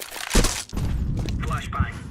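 An incendiary fire grenade thrown in Counter-Strike 2, a quick thump followed by a steady roaring, crackling spread of flames with game noise beneath and a voice speaking over it.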